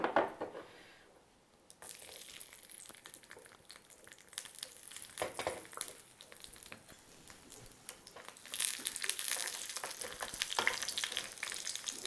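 Raisins fry in heated ghee with a continuous, close crackling sizzle that swells louder toward the end. Faint stirring clicks sound under the sizzle, and no one speaks.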